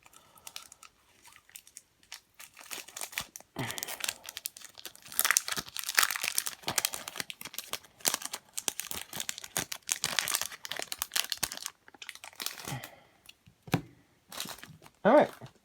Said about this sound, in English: There's another stack of cards in here, so let's open those too.